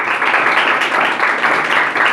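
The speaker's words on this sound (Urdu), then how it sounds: "باجی کے لیے زوردار تالیاں." A congregation at a Sunday church service gives a church member loud, sustained applause. The dense clapping holds steady and close for its whole length.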